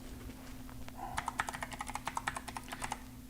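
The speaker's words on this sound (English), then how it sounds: "Still love the sound of my new mechanical keyboard." Brisk clacky typing on a mechanical keyboard, a quick run of sharp key clicks over a steady low hum.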